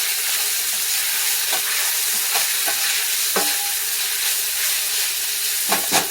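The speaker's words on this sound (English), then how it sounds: "you will notice that it is starting to spatter like that, which you will want to go ahead and just give it a mix" Beef and mushroom risotto spattering and sizzling in a pan with a steady frying hiss, broken by scattered pops and a few scraping stirs, close and alone with no talk.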